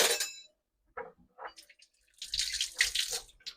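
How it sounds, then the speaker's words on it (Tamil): Meat-boiling water is poured from a ladle into a cooking pot, splashing in short bursts with brief pauses and then a longer, louder pour, close by and without talk. "அதுக்கு தண்ணி எடுக்க இறைச்சி அவிகிற தண்ணி"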